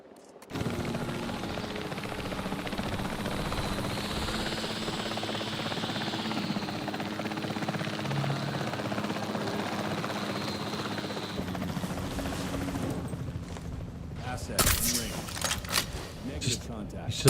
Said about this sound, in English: Why is this helicopter not dealing with this?